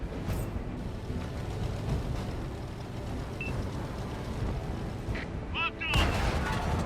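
Tank cannon fire from a Cromwell tank in World of Tanks, heavy booming shots rolling under a steady battle din, with a louder blast near the end and a voice speaking briefly.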